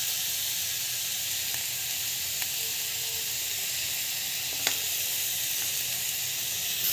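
Semolina (rava) roasting in a pan with asafoetida and salt gives a steady, even sizzling hiss that carries throughout, with a few faint light ticks and no voices.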